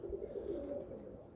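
Pigeons cooing, a soft low murmur that carries steadily through the whole short stretch, heard close and at a moderate level with no other voices.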